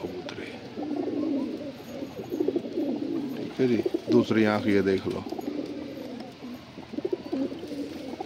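Punjabi pigeons give low, rolling coos at moderate level, heard beneath someone speaking nearby for most of the stretch.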